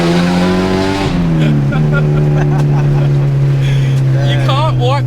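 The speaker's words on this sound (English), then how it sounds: "I just love how you can wrap it down a gear in a Honda," A K-swapped Honda engine revs up on a downshift while driving, loud sustained engine drone that dips and then holds a steady pitch, close and continuous with someone talking over it.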